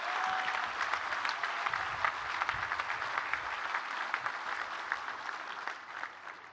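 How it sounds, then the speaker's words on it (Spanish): Crowd at a public agricultural self-sufficiency event in Guadalupe, Nuevo León applauding their president, sustained even clapping throughout with a few sharper claps standing out, no talking over it. "Así que doble aplauso para nuestro presidente."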